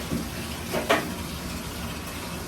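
Tap water pours steadily into a bathtub being filled for an ice bath, a constant close rush of running water with a brief louder splash early on.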